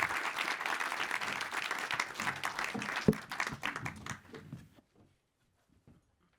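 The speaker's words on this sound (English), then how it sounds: "And now I would like to say a big applause for the panelists." A conference audience applauds the panelists at a talk on nature-positive futures, a dense, moderately distant clapping that thins and fades to silence after about five seconds.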